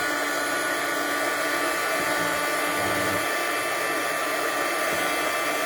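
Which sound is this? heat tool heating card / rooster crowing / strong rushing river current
heat tool heating card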